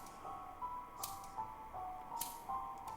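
Scissors snip twice, faint and sharp, about a second apart, over a low eerie drone in the horror video game Corpse Party: Blood Covered Repeated Fear.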